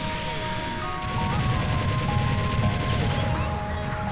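A rapid-fire weapon in Gundam Battle Operation 2 rattles off a continuous, dense stream of shots with blasts and electronic tones layered over it, loud and close throughout.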